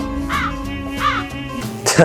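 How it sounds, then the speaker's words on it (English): Two hoarse crow caws, added as a sound effect, ring out about a second apart over a low background and a voice. "Sorry, I added the crow noise in the back."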